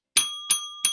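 A small bell struck three times in quick, even succession, each bright ring sharp at the start and briefly sustained before the next, close and alone.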